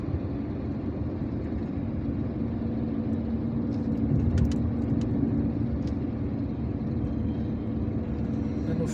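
Steady road noise from a car driving through Algiers, a continuous low engine and tyre rumble heard from inside, with a few faint brief higher clicks partway through.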